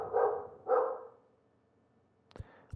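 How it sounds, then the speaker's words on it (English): A dog barks twice in quick succession at moderate distance, two sharp woofs about half a second apart, followed by quiet and a couple of faint clicks. "dog is driving me crazy."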